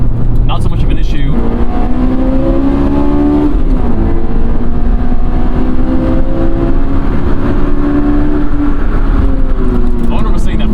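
A Honda S2000 accelerating hard, its engine note climbing steadily through the gears, loud and constant with a brief shift break, heard from inside the car with some talk.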